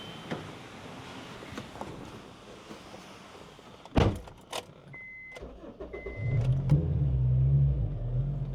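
A Honda S2000 being started and driven away, opening with a door thump and the engine catching, then a low engine rumble that builds steadily as the car pulls off nearby.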